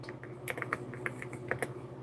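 Rapid clicks from a computer keyboard, crisp and close, keep a brisk, uneven typing rhythm above a faint steady hum, with no voices.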